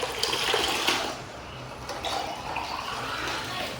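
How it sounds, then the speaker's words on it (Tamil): Lemon mint juice poured back and forth between vessels to cool it, in the stretched-pour way tea is cooled, a continuous splashing gush of liquid that swells and eases with each pour. "டீ ஆத்துற மாதிரி ஆத்துறீங்களா?"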